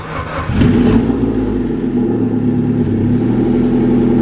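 A 2003 Mazda Protege5 engine cranks and catches on a lukewarm cold start, then settles into a loud, steady idle close by, with no voices.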